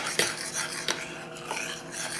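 Spoon scraping and stirring thick pastry cream in a pot, a few close scraping strokes with a soft rasping texture between them, no talking.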